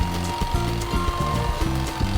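A power drill bores through a wooden IKEA bed headboard, the loud motor whirring in choppy, rhythmic bursts as the bit catches and strays in the wood.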